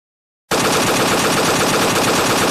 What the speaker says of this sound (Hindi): सिपाही गोलियां चलाते रहे तब तक जब तक उनकी गोलियां खत्म नहीं हो गईं